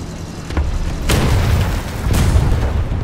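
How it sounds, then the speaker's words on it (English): Dropped bombs explode in a video game as a loud, heavy boom followed by a second rolling blast a moment later, with deep rumbling that sustains between them. "Bombs away!"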